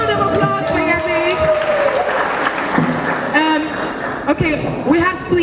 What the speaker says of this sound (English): A round of applause for Yemi.